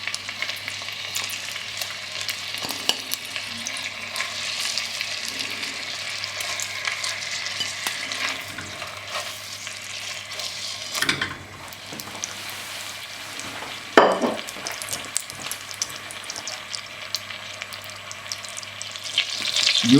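Beef chunks for bœuf bourguignon brown in butter in a pan, sizzling loudly and steadily up close, with occasional stirring scrapes and bumps as the pieces get turned.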